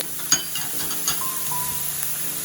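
Chicken biryani ingredients are stirred in a pot while oil sizzles steadily, with a few soft clinks and scrapes from the spoon scattered over a couple of seconds and no voices.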